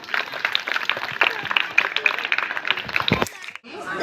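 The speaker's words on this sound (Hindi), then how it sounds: "जोरदार तालियों से अभिनंदन।" A crowd claps loudly at a school Independence Day celebration, with dense, steady applause for about three seconds that cuts off suddenly, followed by a brief noisy murmur.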